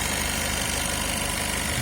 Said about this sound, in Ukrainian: Бачите, як чисто працює мотор, так як як це як ці сутроєновські мотори.